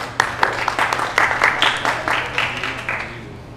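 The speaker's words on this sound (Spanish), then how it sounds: "un aplauso para él" An audience at a talk claps, a burst of applause that starts strong and gradually thins out over a few seconds.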